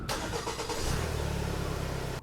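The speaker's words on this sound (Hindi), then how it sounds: "इंजन ने एक जोरदार खांसी खाई" An engine on a bus converted into a houseboat cranks and catches, then settles into a close, rhythmic idle chugging before it cuts off abruptly.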